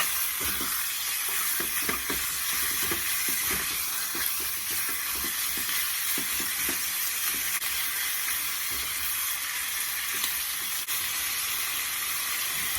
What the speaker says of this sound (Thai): เราจะมาผัดหมูสามชั้น ผัดหมูสามชั้นค่ะ